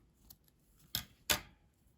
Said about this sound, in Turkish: Burada ipimi kesiyorum.